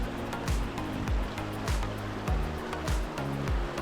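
Hot spring water at Pamukkale, Türkiye, cascades 60–70 metres down travertine terraces, pouring and roaring steadily in a continuous rush, with a faint repeating hum pulsing underneath.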